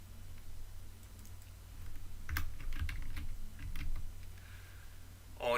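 A computer keyboard is typed on in a few soft, scattered bursts of clicks over a low room hum, fairly faint and with no voice.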